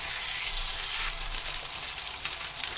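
A homemade McRib patty sizzles steadily on a preheated grill pan, a close, continuous crackling hiss with tiny pops and no talking.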